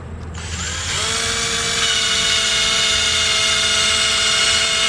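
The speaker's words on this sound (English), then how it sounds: "this is what we're going to go ahead and initially begin sanding with" A powered sanding pad fitted with P500 paper whirs steadily against a car headlight lens, spinning up within the first second into a loud, constant high-pitched hum with an abrasive hiss, close and alone.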